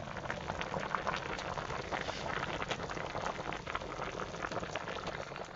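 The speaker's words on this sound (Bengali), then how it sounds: "ঝোল অনেকটা ফুটে এসেছে" Fish curry broth simmers in a pot, a steady, soft bubbling and fizzing that holds at an even level throughout, with no talk.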